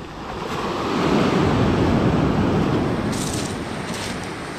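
Sea waves wash onto the winter beach at Lazarevskoye in Sochi, a broad surf roar swelling to a peak and then easing, with wind buffeting the microphone and no voices.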